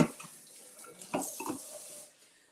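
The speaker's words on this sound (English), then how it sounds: "So let's just rinse this out." Tap water runs into a bowl as it is rinsed out in a kitchen, a fairly quiet, splashy burst of about two seconds with brief gurgling surges before it stops.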